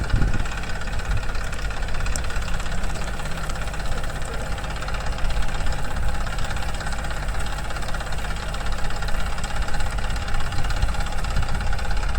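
A tractor engine runs steadily while pulling taut a long wire, a continuous low, rough knocking drone at close range with no pauses.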